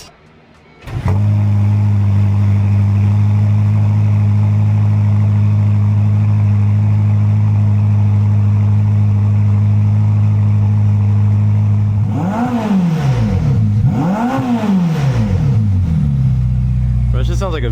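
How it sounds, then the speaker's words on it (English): Porsche GT4 RS with downpipes and a titanium Valvetronic exhaust fires up with a sharp startup bark, settles into a loud steady idle, then rips through several quick throttle blips near the end. "Like we're gonna get the first startup with downpipes"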